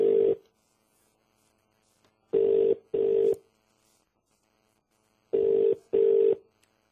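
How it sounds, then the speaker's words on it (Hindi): Outgoing phone call ringback tone, a steady mid-pitched tone repeating in a double-burst cadence, two pairs of rings separated by silence, clear and alone. "आपको सुनाई दे रहा होगा, बेल जा रही है"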